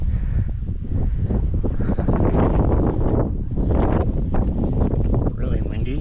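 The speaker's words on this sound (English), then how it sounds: "It is kind of windy now." Steady, loud wind on the Hunter Trail up Picacho Peak buffeting the microphone, a continuous rumbling roar with gusts throughout.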